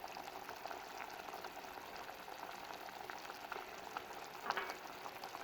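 Pizza sauce of tomato ketchup with thyme simmering in a pan, a soft continuous bubbling sizzle with faint pops, low and steady.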